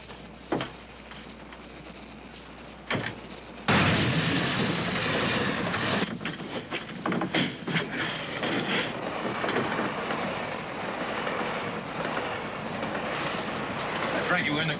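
A train runs along the tracks, starting as a quiet rumble with a few sharp knocks, then jumping to a loud, sustained rolling roar with clattering bursts as it carries on.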